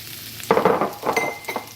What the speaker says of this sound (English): And we're going to let that saute for a little bit.